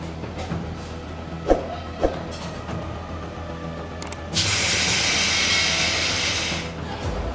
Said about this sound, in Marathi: तुम्ही पाहू शकता रेडिएटर क्लिनिंग चालू आहे